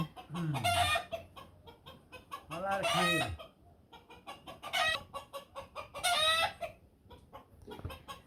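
Several chickens cluck in a backyard pen, with repeated close, lively clucks and a rooster's crow breaking in near the start.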